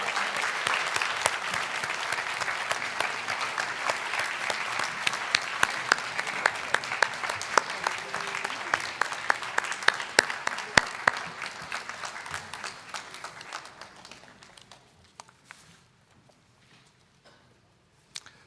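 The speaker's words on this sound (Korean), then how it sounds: "우리 퇴장하실 때 다시 한번 더 큰 박수로 축복해 주시기 바랍니다" A church congregation applauds loudly and steadily at an infant and child baptism service on Christmas, with dense clapping for about fourteen seconds before thinning out to a few scattered claps.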